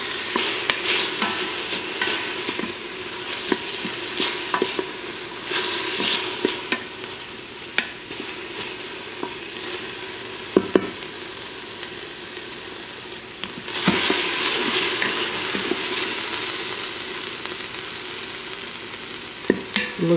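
Beef stew ingredients are stirred in an Instant Pot, a close sizzling bed broken by repeated scraping and clanking strokes of a utensil against the pot, with a louder burst of stirring partway through.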